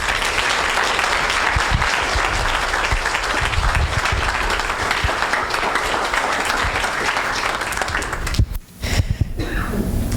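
Loud, sustained applause from a church audience at a youth weekend, even and continuous, with a short dip near the end before picking back up.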